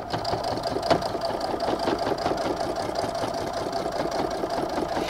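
A sewing machine runs steadily while top-stitching a fabric tech charging station, its fast needle rhythm holding an even, close, continuous mechanical whir for the whole stretch, no voices over it.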